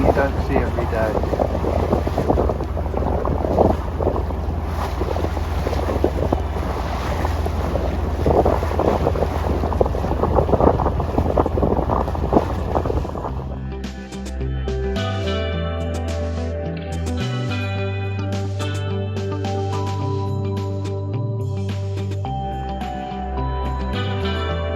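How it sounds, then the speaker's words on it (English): A sailboat running under full mainsail and genoa at six to seven knots off the British coast, with steady wind roar and rushing water that drops abruptly midway into a quieter hull wash and low rumble. "The mainsail fully up and the genoa fully out, and we're powering along at between 6 and 7 knots."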